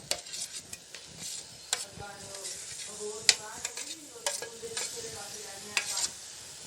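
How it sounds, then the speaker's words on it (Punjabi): Mashed boiled potatoes are stirred into roasted masala in a pan for chole bhature, with a gentle sizzle under uneven spoon scrapes and clinks against the metal, close and soft. "ਇਹ ਉਬਲੇ ਹੋਏ ਆਲੂ ਨੇਗੇ ਤੇ ਹੁਣ ਆਪਾਂ ਇਹਦੇ ਵਿੱਚ ਪਾ ਦਵਾਂਗੇ"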